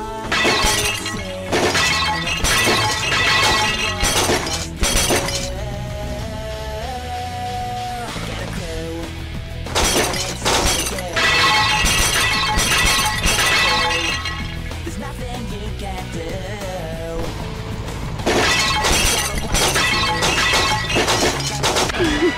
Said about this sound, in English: smashing all those things looks to be a lot of fun